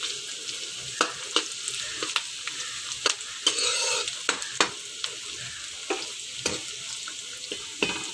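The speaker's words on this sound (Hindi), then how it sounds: "ऐसे घी में हल्का सा फ्राई करना है।" Ghee frying in a pan while minced mutton and cauliflower keema cooks, a soft steady sizzle with sharp clicks of a spoon stirring and scraping scattered throughout, no voices.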